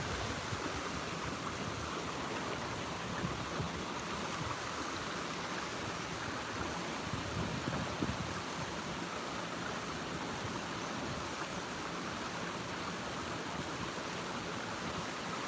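A waterfall and flowing stream heard on a morning walk give a steady, dense rush of water that holds the same level throughout, broad and continuous with no voices over it.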